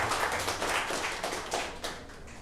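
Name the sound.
audience applause after a presentation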